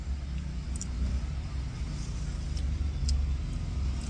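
Traffic on a busy road with many vehicles, a continuous low rumble of passing cars and engines with a few faint high tones above.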